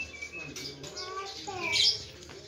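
A small bird chirps in a few quick, thin calls against a busy background of children's voices and household noise, near and moderately loud.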